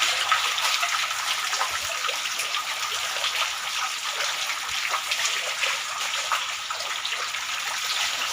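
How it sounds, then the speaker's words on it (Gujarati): Water from a heavy downpour in Upleta, several inches within an hour, rushes and hisses continuously across a flooded road, a bright steady wash with scattered drips. "ફૂલ વરસાદ પડી ગયો"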